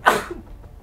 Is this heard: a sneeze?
yes